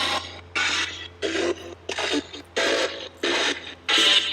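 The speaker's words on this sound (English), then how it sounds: "this is the RTC Ghost Box radio" Rapid bursts of harsh, raspy static from an RTC Ghost Box radio scanning chop on and off in a steady rhythm, about seven sweeps separated by short gaps over a low constant hum.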